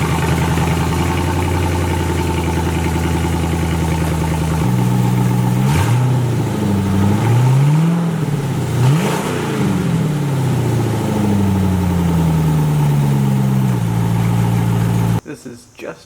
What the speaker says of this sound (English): This cold start with just a crossover pipe and a few tubes leading out of it.